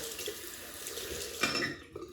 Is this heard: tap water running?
yes